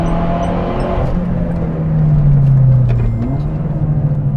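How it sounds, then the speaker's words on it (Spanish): A Peugeot RCZ-R engine pulls at full throttle out of a corner, its loud, close rumble droning steadily and then swelling as the turbo comes in, with the pitch climbing through the run. "gas a fondo, tengo lag, pero va a venir ahora el motor"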